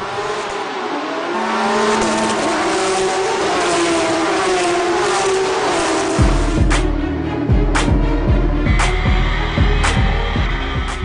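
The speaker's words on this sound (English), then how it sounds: "A jump start by Zaid Ashkanani forces race control to investigate the incident" Porsche GT3 Cup race cars starting a race, engines droning at first before a loud pack of revving, accelerating cars surges past close by with rising gear-change whines.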